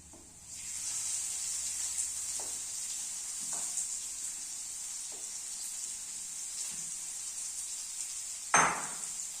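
Onions hiss and sizzle steadily after going into a hot pan for a coconut-roasted pork fry, with a few soft utensil clinks and one louder clatter near the end; no voices.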